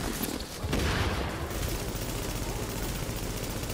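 Dense, continuous enemy gunfire in the video game The Division, sustained bursts of shots layered with booming impacts at a steady loud level, with some voice chatter underneath.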